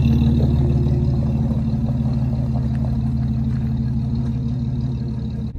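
Jeep Cherokee on big 35-inch tires out on a test drive, a steady low engine drone and road rumble holding at an even, loud level throughout with no talk.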